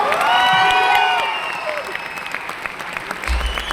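Audience applause for a live orchestra at a concert in Shilpakala Vedika, Hyderabad, a loud dense burst of clapping from a large crowd that tapers gradually, with a voice and light cheers underneath.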